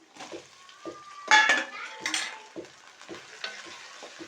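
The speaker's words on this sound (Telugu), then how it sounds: "ఈ బటాటాలన్నీ ఆయిల్లో మంచిగా ఫ్రై కావాలి" Potatoes sizzle in hot oil while a metal spoon scrapes and clinks against the pan in irregular stirring strokes, close by.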